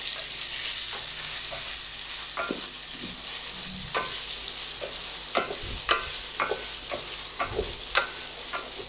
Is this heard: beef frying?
yes